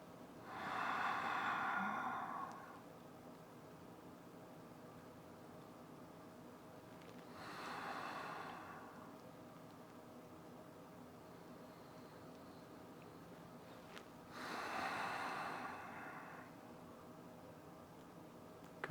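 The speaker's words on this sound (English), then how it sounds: "Nice deep breaths." Slow, deep breathing during a gentle yoga session, three long airy exhales spaced about seven seconds apart, soft and close in a quiet room with no talking.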